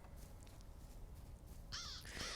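Crows in a fantasy video game give a couple of harsh caws near the end, over a low, rumbling ambient background.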